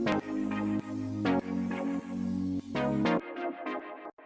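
Echoing wub chords from a Serum synth patch in a full remix mix, pulsing as thick, repeated chord hits under the full arrangement before cutting to a quieter reverb tail.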